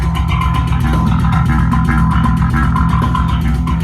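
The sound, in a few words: Shreddage 3 MIDI bass reamped through real bass amp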